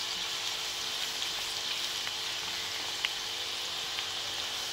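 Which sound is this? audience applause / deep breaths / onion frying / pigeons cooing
onion frying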